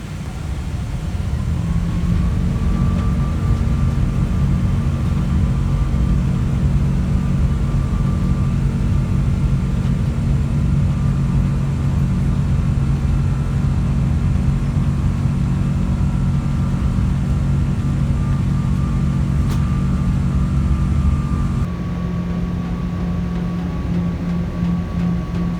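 Takeoff roll of an American Airlines Boeing 777-200 on a Miami to Dallas flight, heard from inside the cabin: a loud, steady jet roar with a rising engine whine that settles into a sustained drone, easing slightly near the end.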